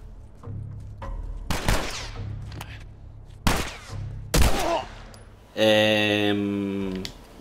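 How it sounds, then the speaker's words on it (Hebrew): Gunfire in a shootout in The Last of Us video game: several loud, sharp shots burst out in separate clusters over a low background hum, and a harsh electronic tone sounds near the end. "וזה הקרב יריות הראשון"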